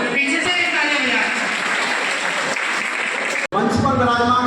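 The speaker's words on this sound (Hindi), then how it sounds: "एक बार पीछे से एक ताली बजाएं" A crowd at a district-level Scheduled Caste honour ceremony in Rajasthan claps loudly and continuously, with a voice carrying over the applause. A brief cut near the end is followed by voiced sound.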